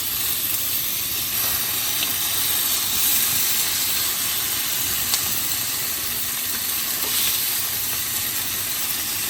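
Lobster sizzling on a hot griddle for an anniversary dinner, a steady loud hiss of searing with faint crackles throughout and no voices.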